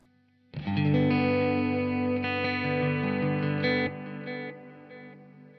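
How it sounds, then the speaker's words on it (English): An electric guitar chord in a clean tone from a Quad Cortex rings out bright and sustained, shimmering with echoing delay repeats that trail off gradually after a few seconds. "you can kind of hear that delay there, that there's a little bit of space after"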